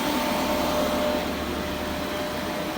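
Recovery pump pulling refrigerant vapor down an HVAC liquid line, a loud steady mechanical whir with broad airy hiss, constant and close.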